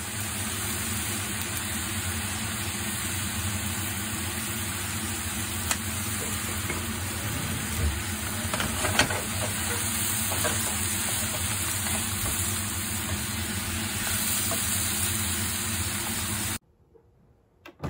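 Beef simmering with soy sauce, sugar and mirin for gyudon sizzles steadily in a pan, a close, continuous frying hiss with light stirring scrapes, ending abruptly.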